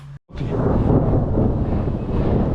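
A low, continuous rumble of thunder builds and holds outdoors, broad and heavy, following a brief moment of silence.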